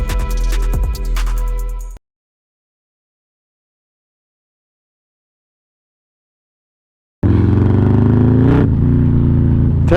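A Harley-Davidson Road Glide with a Zipper's Performance 128 CI engine rumbles loudly up close for about two seconds, cuts to several seconds of silence, then roars back with a deep, steady exhaust note.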